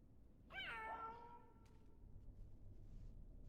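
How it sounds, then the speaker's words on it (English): A single drawn-out cat meow from the Blade & Soul video game rises and falls once near the start, heard alone with no background audio, followed by near silence. "so it just goes meow"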